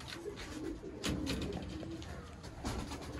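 Low, soft coos of Teddy pigeons repeat through a steady murmur of background noise, several birds calling close by without a clear rhythm.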